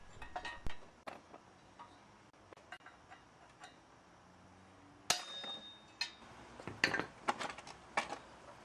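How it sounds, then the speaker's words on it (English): Metal hammer strikes drive out a rusty folding hinge pin on a 40-year-old bicycle, sharp irregular clinks and taps that are sparse at first, then come louder and more often near the end. "This calls for a bigger hammer."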